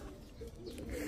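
Racing pigeons at the home loft after a 269 km derby lap, giving soft, close, continuous cooing under low background noise.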